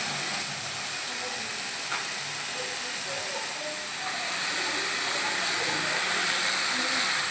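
Vegetables sizzling in a pan with sautéed onion and tomato, a steady loud hiss that runs without a break throughout.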